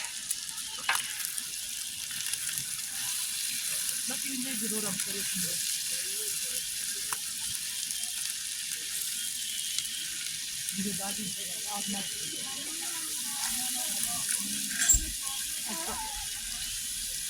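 At a family picnic, onions are poured onto cooked meat and sizzle in a steady, close frying hiss that runs the whole time, with voices talking faintly over it.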